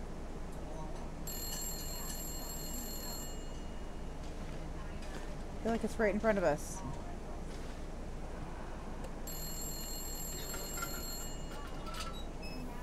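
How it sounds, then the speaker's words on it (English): An old telephone rings in the survival game The Long Dark, with two bursts of bright electric bell ringing a few seconds apart over a low ambient hum, while someone talks and reacts between the rings. "Where's the phone?"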